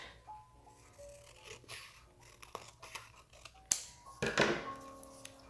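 Scissors snipping paper for a junk journal page, a few quiet scattered cuts followed by a louder burst of crisp rustling and snipping near the end, close and alone with no talk.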